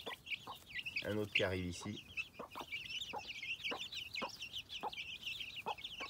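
A hen clucking among her chicks, with steady high peeping from the chicks throughout and a few low clucks near the start, while someone speaks briefly.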